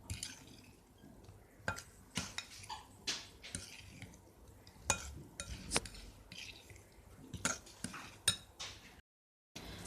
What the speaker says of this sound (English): We should gently mix it to form the cake batter.